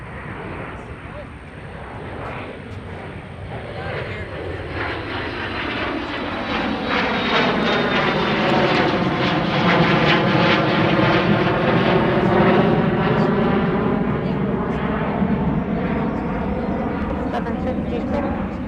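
A Boeing 777-300, the stretched long-range 777, passes at Minneapolis–St Paul airport with a steady, loud engine roar that swells and sweeps in pitch as it goes by, while voices talk over it.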